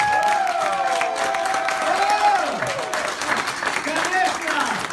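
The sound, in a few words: audience clapping hands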